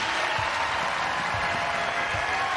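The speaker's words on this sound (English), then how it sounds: "And the crowd rises." A large arena crowd of mostly UConn fans rises and applauds at a UConn versus Marquette women's basketball semifinal at Mohegan Sun, a steady dense roar of clapping and cheering throughout.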